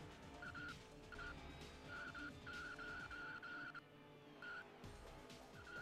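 Race cars in a racing minigame inside PlayStation Home drone steadily while their tires squeal in repeated short skids, the pitched screeches coming in bursts over a continuous engine hum, fairly quiet overall.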